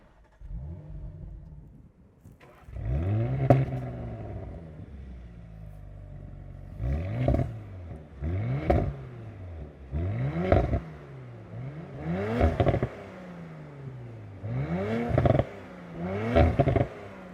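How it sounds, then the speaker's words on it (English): A 2023 Audi RS5 Competition's V6 cranks and fires up in dynamic mode with a loud exhaust bark, then revs sharply several times in a rhythmic series of throaty blips close by. "listen to the more exciting exhaust sound, you do get a better startup"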